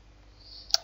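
A single sharp computer mouse click at the end, close and crisp after near silence.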